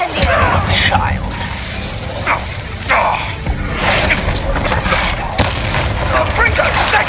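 Confringo spell blasts in Hogwarts Legacy combat, a rapid series of booming explosive bursts and impacts layered over battle noise, with voices shouting spell names throughout.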